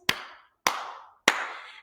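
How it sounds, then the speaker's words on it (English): Three sharp, evenly spaced hand claps ring out one after another, each with a short room echo, in a quiet setting. "and clap our hands"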